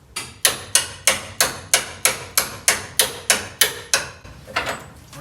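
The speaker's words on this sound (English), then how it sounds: "I'm gonna hit this with the sledgehammer." Sledgehammer blows on a front-end part of a Ford F100/F250 truck during teardown, about a dozen loud, evenly spaced metallic strikes with ringing decay, close up, no talking.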